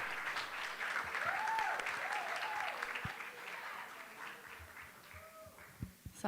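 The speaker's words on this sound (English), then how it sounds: "So everyone, give Nusha a round of applause." A conference audience gives a round of applause, a steady dense wash of clapping that holds for several seconds and then thins out, with a few faint voices mixed in.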